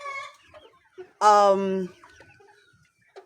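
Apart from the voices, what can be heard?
chickens clucking after debeaking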